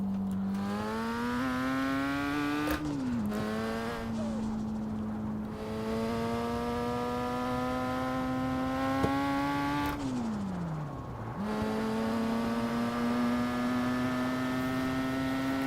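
An over-revved BMW M2 Cup race car engine in the ACC racing game whines at a high, steady pitch, dipping twice before climbing back, with no talk.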